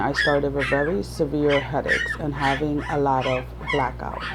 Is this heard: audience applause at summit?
no